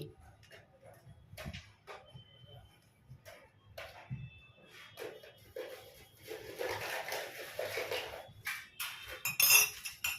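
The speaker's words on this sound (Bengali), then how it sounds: "এবারে সবগুলো উপকরণ একসঙ্গে মিক্স করে নিচ্ছি" Atta and paneer dough ingredients with ghee and salt mixed in a bowl, with scattered clinks and scrapes of utensil against the bowl growing busier toward the end, close and fairly quiet.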